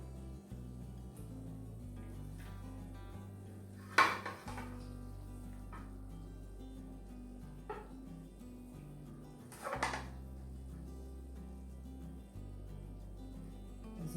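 A serving spoon scoops tater tot casserole out of a baking dish, giving soft scraping and a few sharp clinks of metal against the dish, with two louder knocks, in a quiet kitchen.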